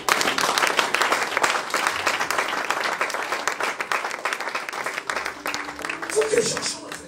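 A church congregation breaks into loud, sustained applause for the Lord, dense clapping filling the space throughout with voices mixed in and a slight thinning toward the end.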